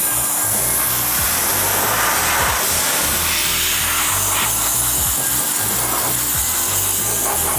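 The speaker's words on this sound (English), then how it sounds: "Another trick you could do to speed up the drying. Let's get it. Your air compressor." Compressed air from an air compressor hisses loudly and continuously over a sanded car headlight to dry it, a strong, steady close rush with a lower mechanical rumble beneath.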